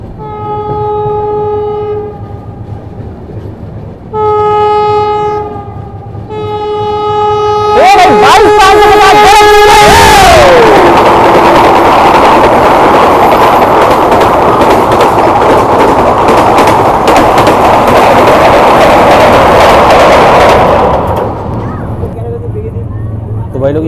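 The Gorakhpur Vande Bharat Express, train 22550, crosses on the adjacent track with repeated loud horn blasts, then rushes past in a sustained roar of rolling wheels for about ten seconds before fading.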